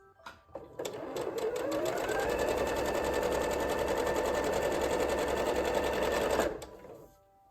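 A sewing machine stitches quilt half-square triangles in one continuous run of rapid, even mechanical clatter lasting several seconds, with faint clicks before it starts and after it stops.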